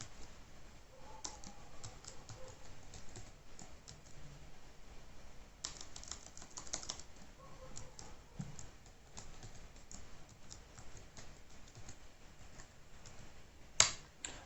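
Quiet, rapid keystrokes tap out a password on a computer keyboard while setting up an Ubuntu server, a steady stream of soft clicks with one louder key strike near the end.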